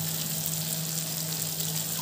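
Egg frying and being stirred in a pan, giving a steady, loud, continuous sizzle with a faint hum underneath and no talk.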